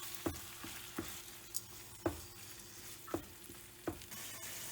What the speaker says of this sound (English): Cook this mixture until all the moisture from it evaporates.